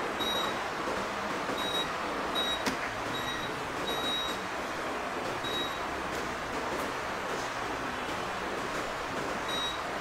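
A multimeter in continuity mode beeps while a mobile phone circuit board is probed for shorts: several short, high electronic beeps at an irregular pace, heard over a steady background hiss with no talking.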